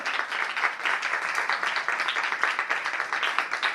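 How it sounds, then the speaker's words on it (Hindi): A church congregation at a Lahore preaching service claps steadily together in dense, sustained applause with no talk over it. "तालियां बजानी चाहिए।"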